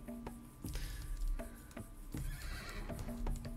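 Horses in the survival video game Dawn of Man neigh and whinny several times at a moderate distance, with scattered hoof clops in between and no speech.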